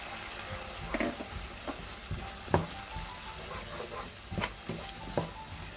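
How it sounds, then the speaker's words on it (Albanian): Vegetables fry at medium heat in a pan, a steady soft sizzle with occasional louder clicks and scrapes from stirring. "Në temperaturë mesatare do vazhdojmë që t'i fërgojmë perimet për 3-4 minuta"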